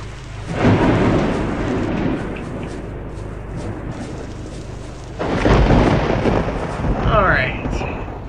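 A thunderstorm in the video game BlockStory: loud rolling thunder swells over steady rain, with a second heavy rumble building midway.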